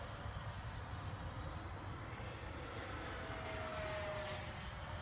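FMS 80mm F-86 Sabre RC jet at full throttle, a steady rushing ducted-fan whine that holds and swells slightly as it climbs, continuous with no talk.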